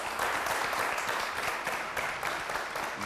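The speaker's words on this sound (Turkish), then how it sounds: "Alkış geldi" Studio audience applause on the Kelime Oyunu quiz show: a dense, steady wash of many hands clapping at once, holding at an even level throughout with no voices over it.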